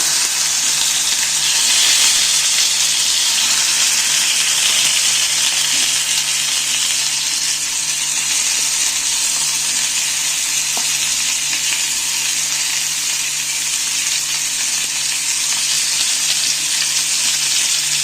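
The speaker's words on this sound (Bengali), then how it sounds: "টমটমগুলো এইভাবে আমি হালকা আঁচে চাপা দিয়ে দিয়ে ভাজবো" Chicken momos fry slowly in a spoonful of oil over low heat, pressed down in the pan, giving a loud, continuous bright sizzle with occasional faint clinks and no talking.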